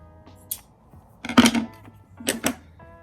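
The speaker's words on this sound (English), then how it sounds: "Okay, I got scissors. I'm just gonna cut this." Scissors snip through string for making mask charms: two or three short, sharp crunchy cuts close up, separated by quiet pauses with faint handling noise.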